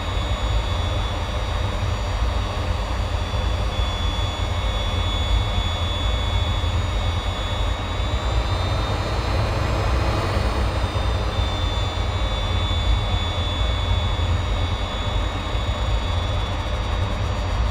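An F/A-18 jet in the Infinite Flight simulator taking off, its engine producing a steady, loud roar with a faint rising whine partway through, alone with no talk.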